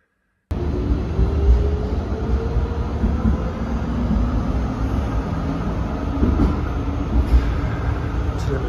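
Steady rumbling ride inside an empty tram in Hannover, a continuous close mechanical drone with rail noise and faint creaks, no talking.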